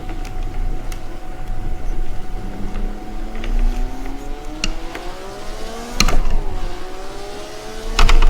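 A 1959-style race car at Sebring in the game Assetto Corsa shifting up through the gears, engine note rising and dropping with each change, loud and close.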